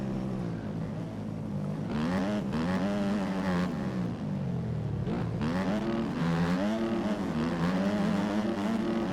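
Simulated motocross bike engines from the MX Bikes racing game on the Unadilla track drone steadily, their pitch rising and falling as the bikes shift gears and lean through corners, with several bikes audible together at moderate loudness.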